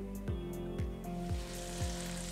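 Butter with a little oil sizzles in a pan as a steady close-up fry, with a few soft clicks or taps recurring about every half second.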